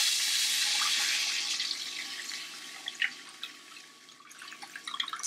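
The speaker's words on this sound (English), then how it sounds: "I'm gonna add my water." Water poured into a cooking pot for curry shrimp, a steady stream that tapers off into scattered drips and small splashes, fairly quiet with no talk.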